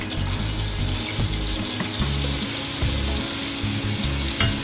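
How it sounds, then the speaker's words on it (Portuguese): Garlic sautéing in a pan where a splash of water was just added, with rice cooking nearby; a steady, close crackling sizzle runs throughout with no talking. "Vamos refogar o alho."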